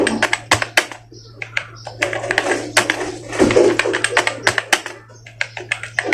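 Rapid typing on a computer keyboard during a Hindi typing lesson, with dense clusters of crisp key clicks, uneven bursts and short pauses, close and fairly loud, with no speech over it.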